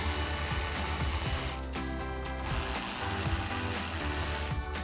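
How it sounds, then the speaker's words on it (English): A ratchet and T30 Torx socket backing out two bolts on a 2021-2026 Ford Bronco factory hard top, close mechanical clicking and whirring over a dense steady background, no speech. "take a T30 torque socket and pull those 2 out"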